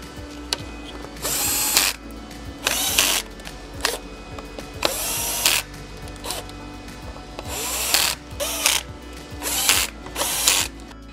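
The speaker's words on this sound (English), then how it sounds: "We're gonna remove these four screws." A ratcheting screwdriver or driver clicks repeatedly while removing screws from the back cover of a Sony TV, in several rhythmic bursts with short pauses between them; loud and close, with no talking.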